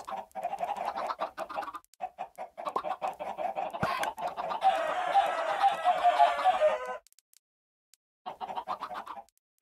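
Chickens clucking in the Minecraft video game, a run of short repeated game clucks followed by a denser burst of clucking, a brief pause, then more clucks, fairly close and clear with no speech.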